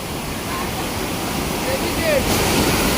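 A steady, dense roar of water pours over rocks at a waterfall in a stream in the Konkan countryside. It is loud, close and unbroken, with faint voices somewhere in the background.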